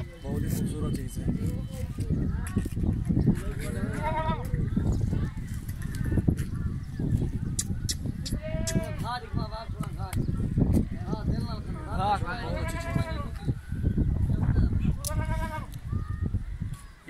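Goats bleating and calling repeatedly at a goat farm, several wavering cries close by over a busy background, with someone talking throughout.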